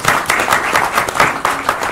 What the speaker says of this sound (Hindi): एक बार जोरदार तालियां सभाजी की